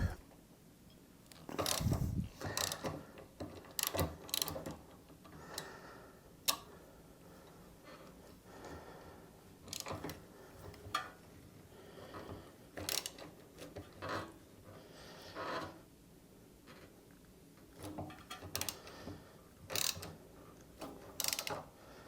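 Saddlebag guard bolts on a Harley-Davidson FLSB Sport Glide being tightened with a ratchet, giving intermittent metallic clicks and clunks in short bursts. The work is close and quiet, with light handling noise between the bursts.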